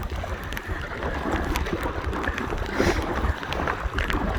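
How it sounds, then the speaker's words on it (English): Strong headwind buffeting a microphone while paddling an Aqua Marina Steam 412 inflatable kayak on choppy Loch Lomond, a continuous loud rushing roar with water slapping beneath, no talk. "The headwind is extremely strong"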